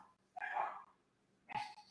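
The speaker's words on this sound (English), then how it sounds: "My damn dogs." Dogs barking in two separate bursts, the first lasting about half a second and the second coming a second later, both fairly faint and heard alone without talk.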